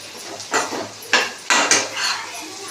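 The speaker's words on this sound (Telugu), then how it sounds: "వీటిని అయితే మంచిగా కలుపుకుందాము." Spices, chilli powder and salt being stirred into bitter gourd curry in a pot, heard as a few scraping, clattering strokes of a utensil against the pot at close range with no voices.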